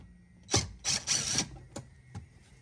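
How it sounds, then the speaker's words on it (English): A ratchet wrench backing out fender liner screws on a GMC Sierra AT4 pickup truck, a few short, close mechanical ratcheting bursts followed by two faint clicks, with no talk. "we're going to take out these fender liner"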